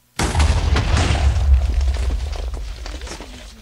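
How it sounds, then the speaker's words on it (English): A loud explosion in the Minecraft video game bursts suddenly after a silent instant, a deep rumbling roar with crackling debris that slowly fades over several seconds. "Let's do an epic explosion!"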